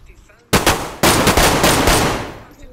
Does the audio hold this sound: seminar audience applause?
no